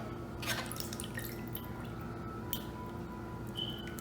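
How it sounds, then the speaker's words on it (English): Light water dripping and splashing onto flour-coated chicken in short irregular bursts, fairly close, over a steady low background hum. "So what I'm going to do now is to sprinkle it with some water."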